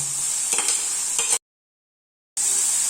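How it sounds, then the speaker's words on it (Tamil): Onion, curry leaves and carrot sautéing in a pan, a steady close sizzle with a few stirring scrapes that cuts out for about a second of silence and then resumes, with no talking. "இப்போ கேரட்டையும் போட்டு ஒரு வதக்கு வதக்கிட்டேன்"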